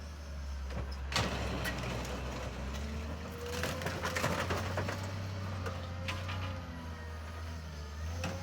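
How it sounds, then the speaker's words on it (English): Quiet, distant machinery at an auto wrecker's yard crushing a car, with a low steady engine drone and sharp cracking, splintering bursts of crumpling metal and breaking material scattered through. "Isn't crushing cars so satisfying to watch?"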